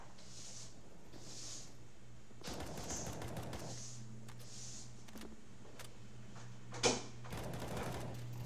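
Gunfire in the video game CS:GO comes in several short bursts of rapid shots, with one sharper crack near the end over a low steady background hum.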